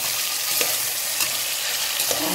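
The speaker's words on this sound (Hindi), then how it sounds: "ये फ्राई कर रहे हैं गोश्त को।" Beef sizzles steadily in a pot with garlic, ginger and onion, a dense continuous hiss with a few soft stirring knocks, close and moderately loud, no voices.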